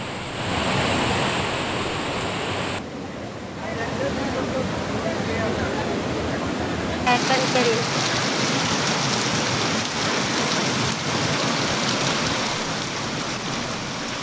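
Heavy rain pours down with a loud, continuous roar of falling and rushing water, broken by abrupt shifts in level, as rainwater floods into a temple.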